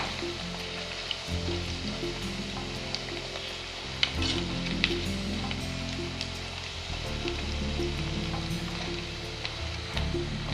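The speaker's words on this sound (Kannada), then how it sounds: "ಎಣ್ಣೆ ಚೆನ್ನಾಗಿ ಬಿಸಿ ಇದ್ರೆ ಚೆನ್ನಾಗಿ ಫ್ರೈ ಆಗುತ್ತೆ." Rice sandige, sun-dried rice crisps, frying in well-heated oil, giving a steady close sizzle and crackle with faint stirring, no voices.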